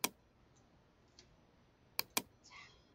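Sharp mouse clicks on the OK button in Photoshop: one at the start, then a quick double click near the two-second mark, each crisp and close in a quiet room, with a faint rustle at the end.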